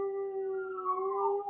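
Dogs howl in the background, a long sustained wavering cry lasting the whole moment, moderately loud with a slight rise in pitch toward the end.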